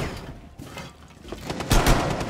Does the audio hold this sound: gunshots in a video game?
yes